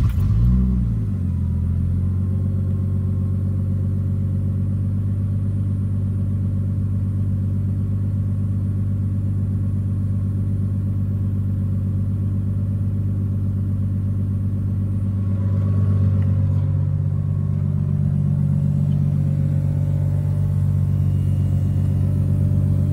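An MK3 Toyota Supra's 7MGTE turbo engine cranks and catches, then settles into a loud, steady low idle rumble close by, with a slight rise in revs near the end.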